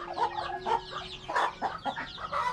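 A native fighting-breed hen clucks in short, repeated bursts close by, with a steady low hum underneath and no talking.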